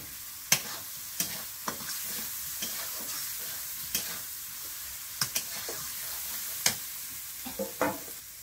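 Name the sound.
stir-frying potatoes with spices in pan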